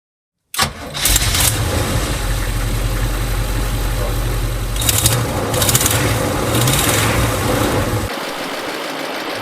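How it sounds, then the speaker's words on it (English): After a moment of silence, a GMC Chevy 454 V8 bus engine converted to propane cranks and fires at once, then settles into a loud, steady idle with a few brief louder bursts before the rumble cuts off near the end. "GMC Chevy 454 V8 converted to run on propane, which is a clean natural gas. She starts right up."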